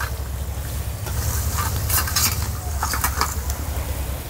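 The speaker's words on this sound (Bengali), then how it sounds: "এবার একইভাবে বাকিগুলো ভেজে নেব।" Mini khaja pastries fry in hot oil with a continuous bubbling hiss, punctuated by light clinks and stirring sounds close by, with no talking.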